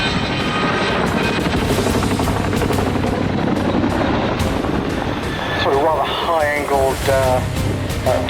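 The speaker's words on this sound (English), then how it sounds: "Chinooks can do a handbrake turn" A Chinook helicopter performs a sharp handbrake turn at a flying display, its loud, steady rotor roar filling the whole stretch with talk layered over it.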